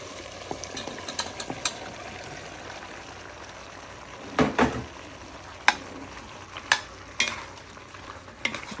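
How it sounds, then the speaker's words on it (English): Chicken cooks in a pot for Guyanese chicken and squash curry, giving a low steady sizzle under occasional scrapes and clinks of stirring, with no talk. "Chicken is cooking."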